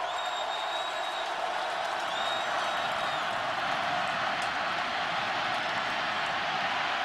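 Roar of a football stadium crowd at a 2007 Clemson versus Boston College game, a broad, steady wash of cheering and whoops at a distance, with faint whistles near the start.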